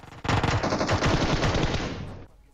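A SCAR assault rifle fires in PUBG Mobile, one loud, close, rapid automatic burst lasting about two seconds before it cuts off, with no talk.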